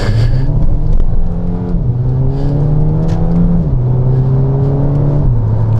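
A car pulling hard from a standstill in first gear onto a dual carriageway in Spain, its engine loud and close, revving up through rising pitch with a few gear changes that drop the note each time, and no talk.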